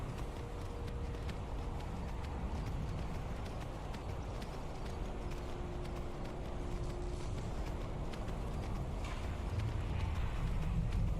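Horse hooves clip-clop steadily in Skyrim, a modded fantasy video game, a continuous trotting rhythm under a broad wash of ambient wind and environment noise throughout.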